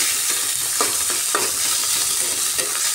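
Seeds fry with spices in a pan, giving a loud, continuous sizzle with repeated sharp scrapes and clinks of a stirring spoon, close and steady with no voices.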